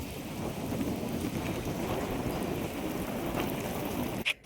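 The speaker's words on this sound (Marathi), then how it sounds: "खाली आलो तर पाऊस चालू झाला होता" Rain pouring steadily outdoors, a dense even hiss of drops on surfaces holding constant throughout, close and fairly loud, cutting off abruptly just before the end.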